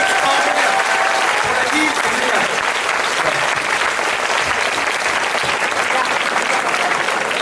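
An audience applauds at a youtuber panel at the Animasia 2014 anime convention, a dense, steady clapping that fills the room from start to finish at full, even loudness, with a few voices mixed into the crowd.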